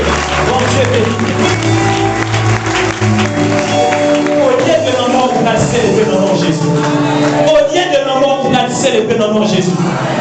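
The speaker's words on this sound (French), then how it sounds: "Est-ce que nous sommes capables d'acclamer pour nous?" A congregation at an annual church conference applauding and cheering, loud and continuous, with a voice shouting over the dense clapping and crowd noise.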